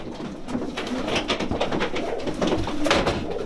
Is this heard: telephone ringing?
no